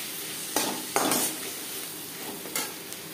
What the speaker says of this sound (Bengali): পেঁয়াজের সাথে লবণ হলুদ ও মশলা বেশ ভালো করে মিক্স করে দেবো।